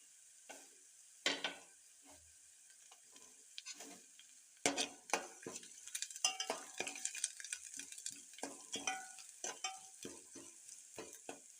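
Curry leaves hit hot oil in a pan for Karnataka-style potato palya, giving a soft crackling sizzle broken by sharp clinks and scrapes of a spoon against the pan, in irregular bursts with no voices.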